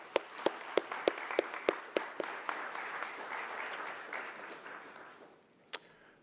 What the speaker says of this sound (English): So right now, please give this group a round of applause.